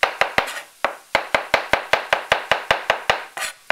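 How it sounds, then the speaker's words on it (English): A knife chops mushrooms on a cutting board in quick, close, sharp strikes, about fifteen in a steady rhythm with a brief pause early on, and no other sound. "And then just chop."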